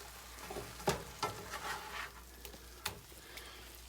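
Hamburger meat browning in a pan for homemade chili gives a faint, soft sizzle with several irregular scraping and clinking stirs, quiet and close, with no speech.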